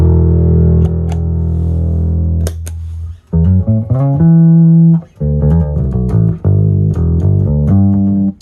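A clean, undistorted bass guitar plays a slow run of sustained notes with short gaps, bright and close, with no talking.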